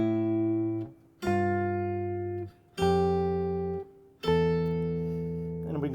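A solo guitar plays contrary-motion counterpoint starting from C, four sustained two-voice chords struck one after another with brief gaps, each ringing out clearly and decaying.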